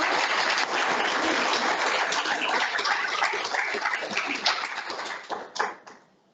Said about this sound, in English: Give her another big round of applause, everyone.